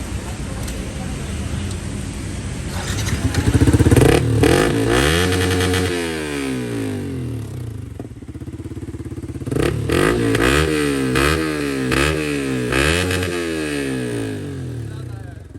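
A motorcycle fitted with an Akrapovic exhaust and dB killer revs repeatedly, the engine rising and falling in loud close blips over a continuous idle, with people talking in the background.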